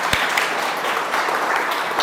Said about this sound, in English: So let's all clap our hands to Nelson.